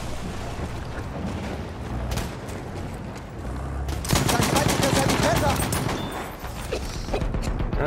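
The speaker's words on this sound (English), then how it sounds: "Now I'm being sniped from somewhere." Dense Battlefield 1 gunfire during an Operations match on the Limpet map, with sharp repeated shots cracking over a constant battle din, including sniper rifle fire, while a player talks over it.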